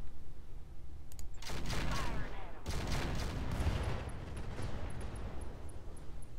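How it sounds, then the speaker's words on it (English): A weapons barrage and ammo explosion in the mech game Roguetech: a few faint clicks, then a loud, sustained rumbling blast that flares again partway, trailing off into rolling low booms with small beeps. "My guess is that was an ammo explosion."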